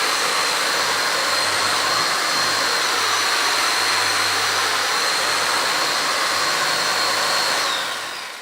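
A carpet scrubbing machine cleans carpet with a loud, steady whirring roar and a high whine on top, continuous and close, easing down slightly at the very end.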